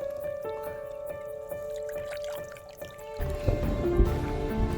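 Water draining out of waterlogged items in a farm field: steady, evenly spaced drips and trickles over a constant tonal hum, followed by a louder, rougher rush of liquid near the end.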